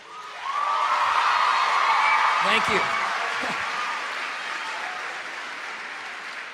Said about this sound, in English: that means a lot to me that you guys applaud for that